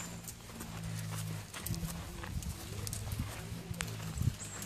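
Faint clip-clop of horse hooves tapping at an uneven pace, with a low hum and some quiet background noise.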